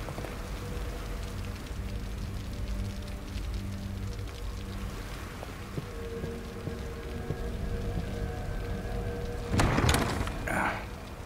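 Steady rain falls in the horror video game The Evil Within, a constant hiss with low rumbling beneath, and a brief louder clatter near the end.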